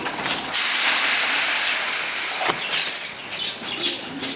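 Pigeons taking off and flying toward a roof, a loud broad rush of flapping wings that swells suddenly and stays strong, with a few faint bird calls near the end.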